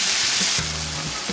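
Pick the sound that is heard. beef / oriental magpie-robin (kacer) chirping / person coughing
beef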